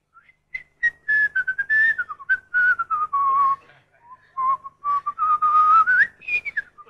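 A man whistles a well-known Hungarian Rhapsody melody in a comic radio sketch, a clear, close, solo line of sustained and wavering notes with brief breaths between phrases and no talk.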